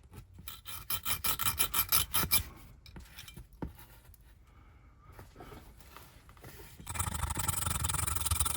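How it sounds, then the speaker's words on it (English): Filing the end off a small metal axle shaft from a Dinky Toys 152 Austin Devon diecast model, with a rapid run of close, rhythmic rasping strokes, a quieter pause, then a denser continuous rasp. "File the end off of the shaft that's here."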